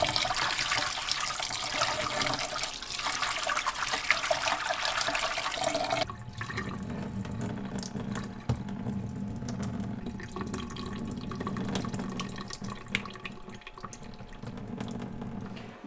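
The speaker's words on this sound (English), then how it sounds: "then what I do is I pour the water out, trying not to get too many of the eggs out" Water poured out of a bowl while rinsing salmon eggs for smoked, candied Alaskan salmon, a steady broadband splashing pour for about six seconds, then a quieter trickle and drain with occasional drips.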